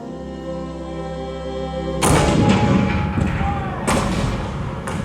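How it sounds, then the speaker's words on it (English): Cannon fire from the Fort Sumter opening of the Civil War, staged in the Great Moments With Mr. Lincoln theater show at Disneyland, comes as a deep boom that cuts off a sustained musical tone, followed by rumbling echoes and a second blast. "The cannons spoke for war."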